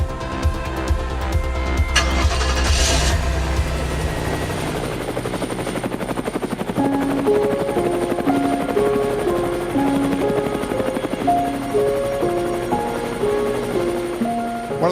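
Steady helicopter rotor thumping throughout during a ride over Manhattan, New York, loud and continuous, with a music track fading in beneath it partway through.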